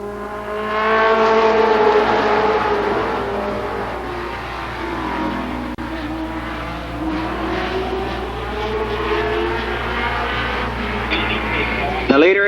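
Race cars roar around the oval at Columbus Motor Speedway in a four-lap dash, with engines droning and shifting pitch loudly and continuously as the pack circles and a race announcer talks over them.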